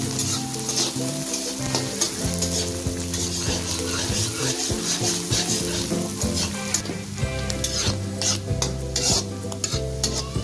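Soya chunks with green chillies sizzling loudly in a pan as a spoon stirs and scrapes through them, a dense continuous frying hiss with rhythmic stirring knocks, close and without talk.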